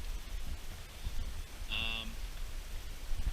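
Steady rain falls outside a wilderness shelter in cold Temagami bush, a continuous broadband hiss of drops with one brief tonal chirp partway through, no talking.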